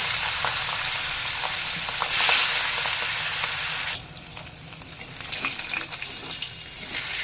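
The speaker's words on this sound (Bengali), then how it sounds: "তেল গরম হয়ে গেছে, এবার নুন হলুদ মাখানো কাতলা মাছগুলোকে ছেড়ে দিচ্ছি।" Catla fish pieces rubbed with salt and turmeric go into hot mustard oil in a kadai and sizzle loudly. The frying then drops to a quieter, crackling bubble after a few seconds.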